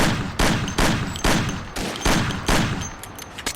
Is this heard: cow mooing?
no